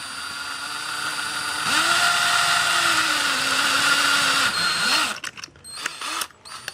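A power drill bores holes in the metal of a portable stove built for a Trangia burner, whining steadily, then rising in pitch under load for several seconds before stopping, followed by brief handling clatter.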